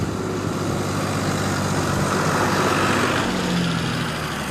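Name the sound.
tractor passing by on a farm road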